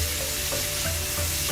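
Sugar snap peas and peppers sauté in a hot pan with a steady, close sizzle and crackle, while faint stirring scrapes come through now and then.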